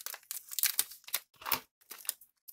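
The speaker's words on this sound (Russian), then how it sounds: "Упакован такой вот пакетик антистатический." Crisp crinkling of an antistatic plastic bag in short irregular bursts, close by, with brief quiet gaps between handlings.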